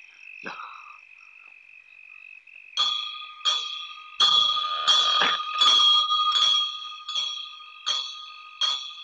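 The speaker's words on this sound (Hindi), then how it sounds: "तुम दोनों घंटी बजाते रहना।" A bell rings repeatedly in clear, evenly spaced strikes, each leaving a bright metallic ring that hangs over a faint steady tone.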